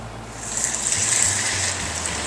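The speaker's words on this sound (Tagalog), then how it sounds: "so ngayon ay prituhin na natin. Mainit yung mantika." Tikoy fries in hot oil with a steady, hissing sizzle that swells slightly midway and holds constant, close and alone without voices.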